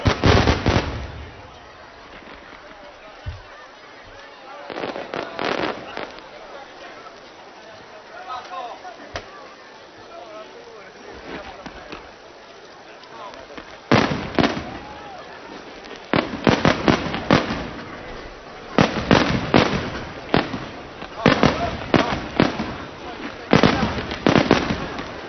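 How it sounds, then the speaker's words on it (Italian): Fireworks bursting in the night sky over an outdoor festive evening at a Sicilian shopping village, loud booms and crackling volleys in irregular bursts that grow denser toward the end, with crowd voices underneath. "fuochi d'artificio, che sono segno di festa e anche di partecipazione"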